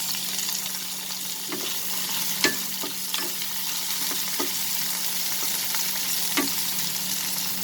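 Tomatoes and chilies added to fried onions in a pan give a steady sizzle with scattered stirring clicks and scrapes. There is no talking.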